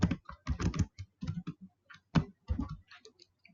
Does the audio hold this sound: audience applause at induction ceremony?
no